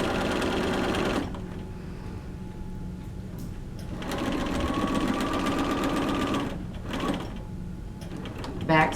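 A sewing machine stitches a flat felled seam in two runs of rapid, steady mechanical whirring, close and loud, separated by short pauses, with a brief bump near the end.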